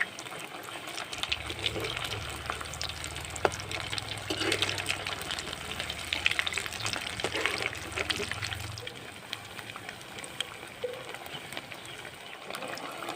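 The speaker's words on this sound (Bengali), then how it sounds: "এবার আমি এক এক করে সবগুলো এইভাবে ভেজে নেব" Coconut and flattened rice pitha cakes frying in hot oil, a continuous bubbling sizzle close by with light crackles throughout.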